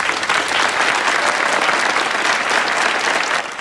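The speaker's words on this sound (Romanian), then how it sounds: "Să-l primim cu aplauze călduroase pe domnul director." An audience at a school gathering gives the principal a warm welcome with steady, dense clapping that holds at full volume throughout before easing slightly at the end.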